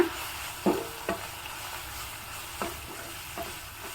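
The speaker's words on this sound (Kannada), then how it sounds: "ಒಂದು ನಾಲ್ಕು ಚಮಚದಷ್ಟು ರೆಡಿ ಮಾಡ್ಕೊಂಡಿರೋ ಪುಡಿನ ಹಾಕ್ತಾ ಇದ್ದೀನಿ ಇನ್ನೊಮ್ಮೆ ಚೆನ್ನಾಗಿ ಮಿಕ್ಸ್ ಮಾಡ್ಕೊಳ್ಳೋಣ" Flavoured rice is stirred in a hot pan with spice powder and curry leaves, giving a soft steady sizzle broken by four or five scraping clinks of a spoon, with no voices.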